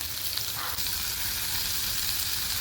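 Whole spices, cloves, peppercorns, bay leaf, cinnamon and cardamom, with cashews, tomato and curry leaves, fry in hot oil for chhole masala, giving a steady, dense, close sizzle throughout with no voices.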